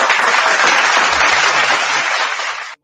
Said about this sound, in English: Let's get a applause for that.